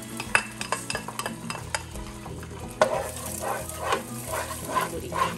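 An egg frying in hot olive oil in a pan for ham fried rice, a steady close sizzle with scattered utensil clicks and scrapes, and no one talking.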